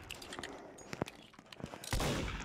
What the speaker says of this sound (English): I got a bullet in the back.